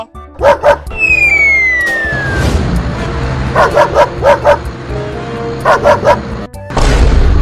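A dog barks in quick clusters of sharp yips, several short bursts spaced apart, loud and close over a busy background.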